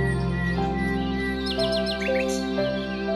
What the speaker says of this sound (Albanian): cicërima zogjve ishte më ndryshe nga që jemi mësuar ta dëgjojmë